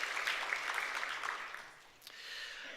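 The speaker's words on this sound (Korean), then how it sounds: "박수로 한번 격려하겠습니다." A church congregation applauds together in a sustained burst of clapping that fills the room, then quickly fades away.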